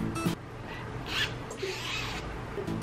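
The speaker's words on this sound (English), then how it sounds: "This is the first time I've seen a onesie with a zipper." A zipper on a onesie is worked up and down close by in a few short rasping bursts separated by brief pauses, with no voices over it.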